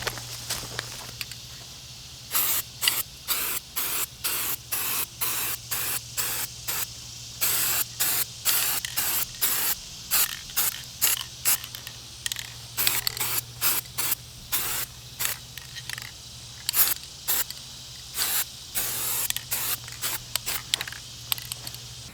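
Short bursts of black spray paint hiss from an aerosol can onto a pair of pants, dozens of quick sprays in an uneven rhythm over a low steady hum, close by and with no talk.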